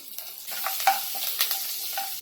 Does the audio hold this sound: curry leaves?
yes